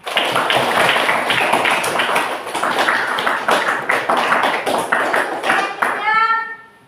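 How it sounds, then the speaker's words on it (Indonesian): Students in a classroom clapping together after a discussion, a loud, dense, sustained round of many hands that stops abruptly near the end. "Tepuk tangan sama-sama"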